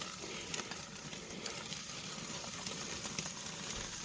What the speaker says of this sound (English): So there we are, doing a quick sear.